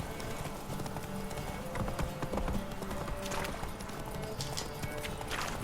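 Horse hooves clip-clopping at a fast gallop in The Witcher 3: Wild Hunt, a rapid steady rhythm continuing throughout at moderate level, with a whinny and faint game ambience.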